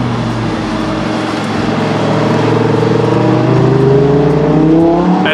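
Golf carts run at about 35 mph on the Road America race track, a loud continuous engine drone that swells as they approach and pass close by, with the pitch rising toward the end and no voices over it.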